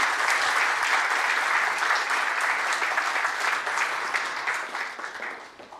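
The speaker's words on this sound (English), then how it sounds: "Let's give them a huge round of applause" A conference audience in London applauds a panel at an investment event, with sustained full clapping that gradually thins and fades toward the end.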